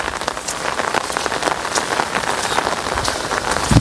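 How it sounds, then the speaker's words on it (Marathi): Heavy rain pours onto a sugarcane field, a dense, loud, steady patter of drops striking leaves and surfaces close by, with no voices. "पाऊस एवढा का पडायला लागला आहे"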